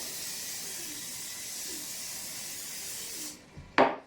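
Cooking spray hisses onto a mixing bowl being reused for bread dough, a steady soft spray that cuts off and ends with a brief sharp burst, no talk over it.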